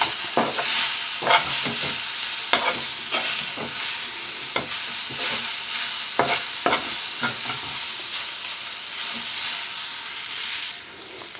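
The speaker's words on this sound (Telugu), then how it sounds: "ఈ ఫ్రైకి సరిపోయినంత ఉప్పు కూడా వేసుకోవాలి అలాగే కారం వేసుకోవాలి దీన్ని మొత్తం కలిసేలాగా కలుపుకోవాలి" A brinjal fry with salt, turmeric and chili powder is stirred in a pan, a spoon scraping in irregular strokes over a steady soft sizzle, close and continuous with no talking.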